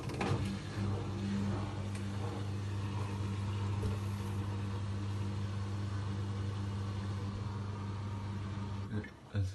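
An AEG Lavamat Turbo Protex washer/dryer hums steadily on a synthetics program at 30 degrees, a low constant motor drone heard close and fairly quiet, with a short knock near the end.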